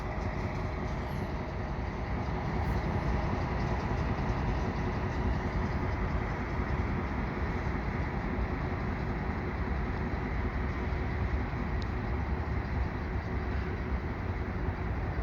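A Herzog maintenance-of-way locomotive with an unusual cowling creeps past on the rails, a steady low rumble of engine and wheels holding constant and fairly loud throughout, with no voices.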